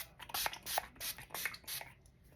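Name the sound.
finishing spray being sprayed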